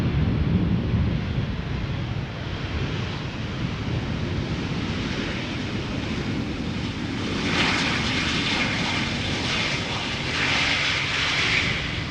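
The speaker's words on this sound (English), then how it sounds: "arriving from London Heathrow, A319, flight 434, 43 minutes of flight time" A British Airways Airbus A319, about 22 years old, arriving at Amsterdam Schiphol Airport from London Heathrow, heard as a steady, loud jet engine roar that swells slightly toward the end, with no talking.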